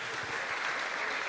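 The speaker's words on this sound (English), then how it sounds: "Let's give a round of applause." A brief, steady burst of audience applause at a Sunday feast gathering, many hands clapping together in an even, dense wash for just over a second.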